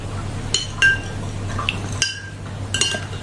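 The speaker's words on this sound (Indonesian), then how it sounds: "Kemudian ini akan kita aduk rata." Spoon clinking against a bowl while stirring a coconut-milk cake batter, a few sharp metallic taps over soft sloshing, with a low steady hum beneath and no talking.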